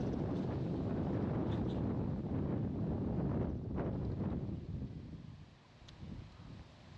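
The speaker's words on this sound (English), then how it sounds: "This wind just picked up." Steady wind buffeting out on the water during a kayak fishing trip, a broad low rumble with gusts that ease and fade toward the end, with no one speaking.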